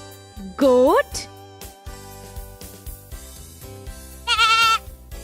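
A goat bleats twice, a loud wavering cry early on and a second shorter bleat near the end, set against a busy background of other tones.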